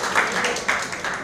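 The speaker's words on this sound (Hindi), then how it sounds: "हाँ, ताली बजाइए इनके।" Audience members at a stage-hosting workshop clap together, a brief burst of moderately loud applause filling the room with no voices over it.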